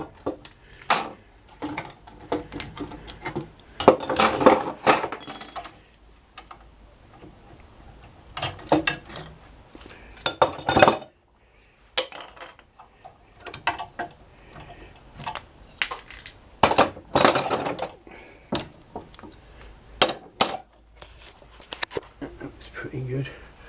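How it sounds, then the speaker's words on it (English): Metal clamps are loosened and taken off a glued wooden Z splice: bursts of clicking, rattling and scraping handling noise come close and loud, separated by quiet gaps, with someone talking in between. "Let's get these clamps off"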